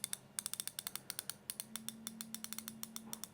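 Chrome 72-tooth ratchet spanner clicking in a rapid, even series of sharp, close metallic ticks with a faint steady hum beneath.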